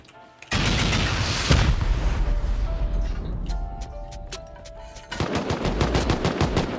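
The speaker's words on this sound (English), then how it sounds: "Turret's already killing somebody." An automated turret opens fire during a video game raid on a bunker, loud rapid automatic gunfire in long sustained bursts, then a pause of sharper single shots before another heavy rattling burst.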